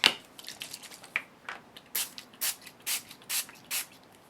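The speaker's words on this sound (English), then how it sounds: "So I'm just going to spray that on, and then I'll peel off my cardstock." Short bursts of Mr. Huey's spray mist onto a stencilled mask over cardstock, about six quick hissing sprays at a steady rhythm, close and fairly loud, after a few lighter rustles.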